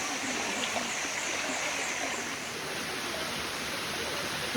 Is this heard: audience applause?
no